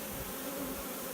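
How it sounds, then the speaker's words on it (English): A swarm of honeybees hums in a dense, continuous drone, steady and close, with no other sounds. "There's some bees in the swarm."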